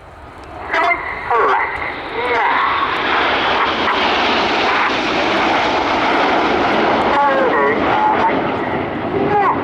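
RAF Red Arrows jets fly a display at RIAT 2024, with a loud, sustained jet roar that builds and holds across the scene while a commentator talks over it.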